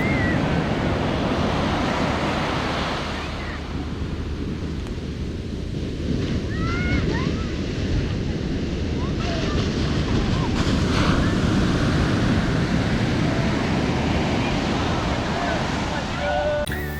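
Arabian Sea waves wash onto a Pakistan beach in a continuous roar of surf, with heavy wind buffeting the microphone and the breaking water rising and falling.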